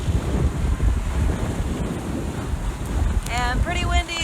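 Strong wind roars steadily across the microphone aboard a sailboat in Force 7 heavy weather, with rushing water and surf mixed in, loud and constant throughout, and a voice briefly rising near the end.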